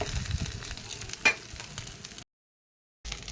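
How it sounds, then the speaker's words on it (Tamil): A steady frying sizzle as mustard seeds, curry leaves and asafoetida are tempered in hot oil and poured into a spicy chutney, with a brief sharp crackle before a short silent gap and then the hiss resumes. "அதில் கடுகு, கருவேப்பிலை, பெருங்காயத்தூள் அப்படியே தாளிப்பு இதில் விட்டுடலாம்."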